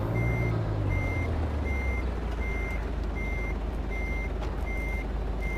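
A Euro truck reverses in a trucking simulator game, with evenly spaced reversing beeps repeating about eight times over a steady low engine drone.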